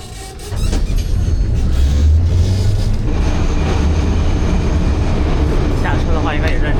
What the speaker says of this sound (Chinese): 这个小电车也太复古了吧！